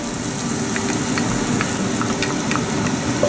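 Whole garam masala and ginger sizzling in butter in a pan, a steady close frying hiss with scattered crackles and pops throughout.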